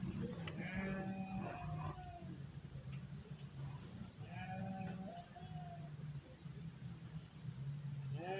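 Sheep bleat in a few wavering calls, rather faint against constant outdoor background noise, with some indistinct voices nearby.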